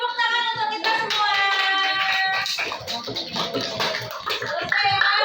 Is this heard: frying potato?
no